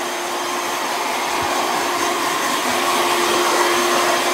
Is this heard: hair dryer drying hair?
yes